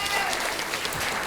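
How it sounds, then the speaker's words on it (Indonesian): An audience at a junior high school quick-quiz competition claps for group B, a brief burst of steady applause filling the whole moment without a break. "Tepuk tangan untuk kelompok B."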